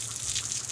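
Water pours steadily from a native-style shower at a river eco park, a continuous hissing splash like a small waterfall, close and even throughout with no voices.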